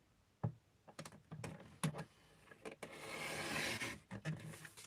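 A paper trimmer slices diagonally through a sheet of designer paper, heard up close as a run of sharp clicks and taps followed by a sustained scraping rasp of the blade, then more clicks as the paper is handled.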